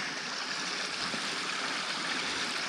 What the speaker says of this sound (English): We've got running water.